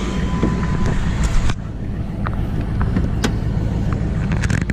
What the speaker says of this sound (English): We throw the truck in reverse.